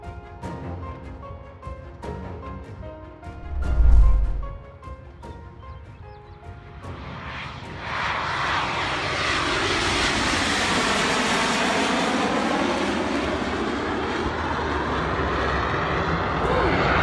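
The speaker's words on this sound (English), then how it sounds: "This is crash footage of the famous World War II airfighter P-38 Lightning in Duxford" A World War II P-38 Lightning fighter at Duxford, UK, heard first as faint background noise with a brief low thump, then a broad, steady roar of aircraft engines swelling in and holding loud.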